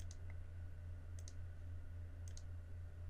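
A computer mouse in ProNest software gives three double clicks, sharp and faint and spaced about a second apart, over a steady low hum.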